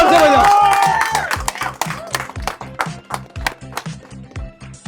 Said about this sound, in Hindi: सो इसके लिए तालियां हो जाए यार। थोड़ा जोर से हो यार, थोड़ा जोर से बजाओ